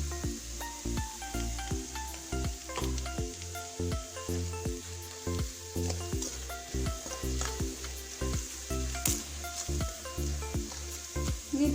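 Onions and chili frying with turmeric powder for egg fried rice, a steady close sizzle broken by regular rhythmic clacks of a utensil stirring the pan throughout, with no voices.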